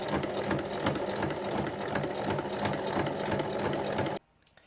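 A sewing machine stitches fabric pieces of a backpack with two patch pockets, running as a steady, close, fast mechanical whir for about four seconds before stopping abruptly.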